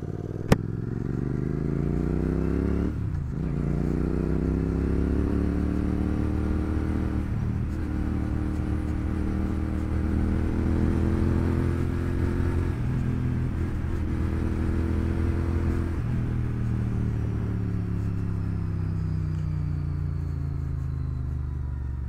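A large motorcycle engine, a 650 twin, idles and runs steadily nearby with a deep, continuous rumble and harmonic drone, with slight revving swells around a few moments and no talk.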